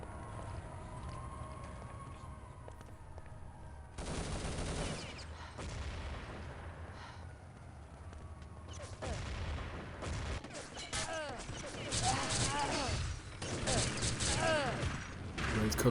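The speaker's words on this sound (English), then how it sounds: "Cover fire there from the Australians" Cover fire in a competitive online shooter match: fairly faint scattered bursts of gunfire under an ongoing commentator's voice, with dense crackling shots building toward the end.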